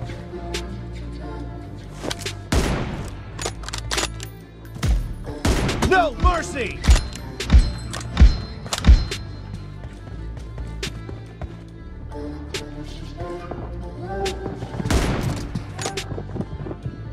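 Gunfire in the mobile battle game PUBG Mobile: scattered single shots early, then a rapid burst of loud, close rifle cracks in the middle, followed by more distant shots under background music and faint voice.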